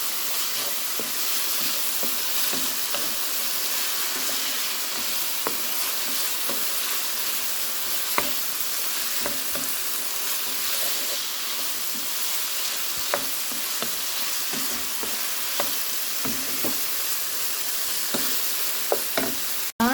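Green chillies frying in oil for biryani, a steady loud sizzle and hiss throughout, with the scrape and clink of stirring against the pan recurring at irregular intervals.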